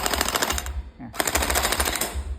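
An AKM47 electric gel blaster on an 11.1V battery fires two rapid full-auto bursts separated by a brief pause, each a loud, close, dense chatter of shots.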